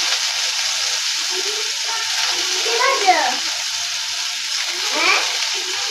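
Onion and garlic fry in a pan with a steady hiss and crackle, close and continuous, while something is stirred now and then. A voice talks faintly underneath.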